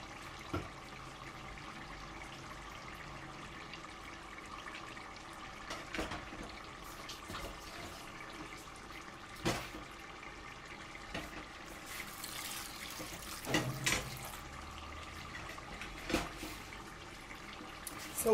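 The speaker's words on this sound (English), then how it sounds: "So we add more water to it to make it more tender." Water is poured into a pot of ofada stew (ayamase) as it cooks, a steady soft liquid wash running through the clip with a few brief clinks and splashes, with no talk.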